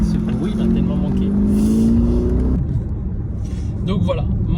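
An Audi S7 engine revs up, its pitch climbing steadily for about two and a half seconds before cutting back to a lower rumble, loud and close.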